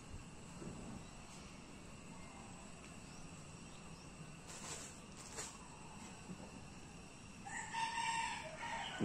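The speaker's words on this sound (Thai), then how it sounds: "มีเสียงไก่ขันด้วยนะบรรยากาศธรรมชาติมาก" A rooster crows in the distance at a rural campsite in a friend's yard, faint against steady outdoor ambience with insects buzzing. A brief clucking-like sound comes near the end.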